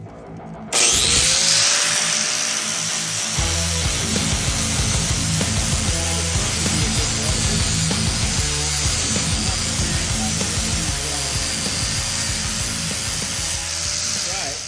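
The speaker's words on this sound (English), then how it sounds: "All right, now let's get this thing welded." Welding a steel bracket for a Honda Trail 90 auxiliary fuel tank gives a loud, steady, crackling hiss that starts after a brief quiet moment and runs unbroken to the end, with a low musical bed underneath.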